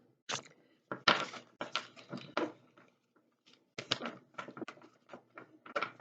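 Playing cards riffle and flap in quick bursts, a few short shuffles separated by brief pauses, close and fairly quiet.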